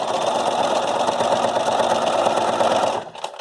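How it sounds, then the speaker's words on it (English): A sewing machine runs steadily and loudly, back stitching to reinforce a seam on a fabric face mask, a continuous whirring drone that stops abruptly near the end, leaving a few faint clicks. "I want to back stitch to reinforce that area."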